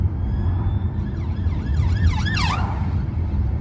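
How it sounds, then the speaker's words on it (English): A police car siren wails past outside, its rising and falling tones sweeping over a steady rumble of road noise, growing louder toward the end, with no talking. "There's a bloody police car flying up here."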